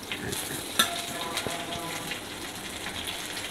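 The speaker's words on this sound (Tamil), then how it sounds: "இப்போ உளுந்த பருப்பு பொரிஞ்சிக்கிட்டு இருக்கு, நல்லா பொன்னிறமாக பொரிஞ்சு வரட்டும்." Urad dal frying in hot oil for a mint chutney, a steady close-up sizzle and crackle with a few sharp utensil taps over it and no talking.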